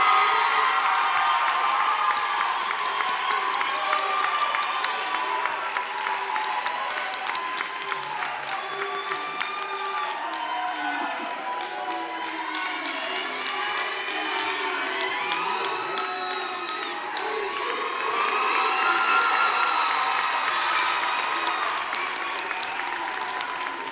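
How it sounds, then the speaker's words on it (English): Crowd at a high school graduation applauds a school principal, Dr. Corey Levy, with long sustained clapping mixed with cheers, whoops and children's shouts. "We're applauding him because he deserves it."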